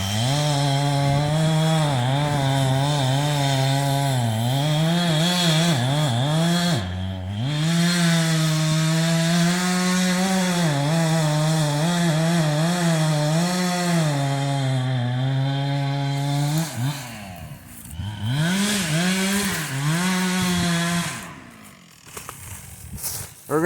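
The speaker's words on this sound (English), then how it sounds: "Just listen to that husky rip." A Husqvarna chainsaw cuts timber during a logging harvest, its engine holding a loud, steady high-revving whine under load, dipping briefly and then bogging and sputtering toward the end. Close to the listener, with a voice talking over it.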